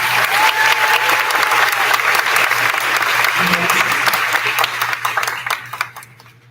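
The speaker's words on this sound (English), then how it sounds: "give these guys a round of applause" Sustained applause from an audience at a school band awards ceremony, dense clapping throughout that thins and fades out over the last second or two.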